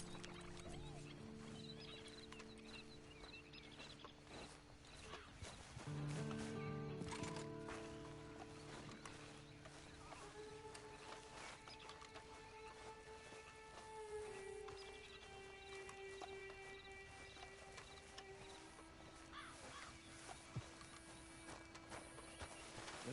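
Horse hooves clip-clop at an easy riding pace in the Western video game Red Dead Redemption, faint and steady over a long stretch with quiet ambient background and occasional murmured sounds.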